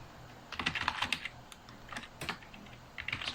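Quiet, irregular clatter of a computer keyboard as commands are typed into a Linux terminal, with short bursts of keystrokes separated by brief pauses.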